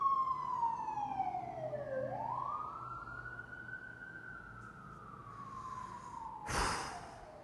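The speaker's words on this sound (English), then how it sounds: "Right when I'm getting into it, that's when a siren has to go by." An emergency vehicle siren wails outside, its pitch swooping down, then rising and holding steady as it passes at a moderate distance, with a short sharp noise burst near the end.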